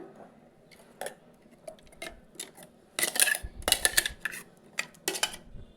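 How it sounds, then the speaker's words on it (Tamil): Several clinks and scrapes of a spoon against a bowl as ground spicy chutney is transferred into it, irregular and close, with a brief busier flurry of clatter in the middle. "இப்போ நான் இதை வந்து ஒரு பவுலுக்கு மாற்றிக்கிறேன்"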